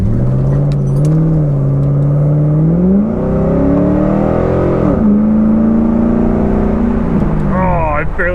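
A car engine revs hard as gas is applied, the note climbing, holding, dipping and climbing again, loud and close, with someone talking over it.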